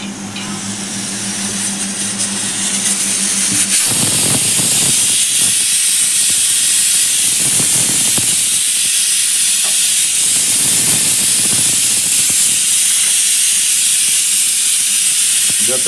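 Ration rice heated on a hot griddle gives off a steady, loud hiss that runs continuously from just before the four-second mark to the end, with occasional faint scraping or tapping mixed in.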